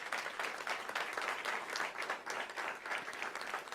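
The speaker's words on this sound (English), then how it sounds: "Another round of applause." Audience applause at a university state-of-the-address event, a steady wash of many hands clapping at moderate distance, fairly quiet and continuous with no voices over it.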